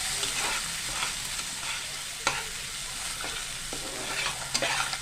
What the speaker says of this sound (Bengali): পোস্ত কাজু বাটা দিয়ে বাটি ধোয়া জল দিয়ে ভালোভাবে একটুখানি নেড়ে নিলাম